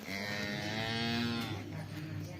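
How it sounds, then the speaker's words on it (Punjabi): A cow on a farm near Amritsar, Punjab, gives one long, loud, close moo that holds steady before tapering off, with no talking over it. "ਤੇ ਦੂਸਰੀ ਗਾਂ ਬਾਰੇ ਕੀ ਬੰਸ ਸਿੰਘ ਜੀ"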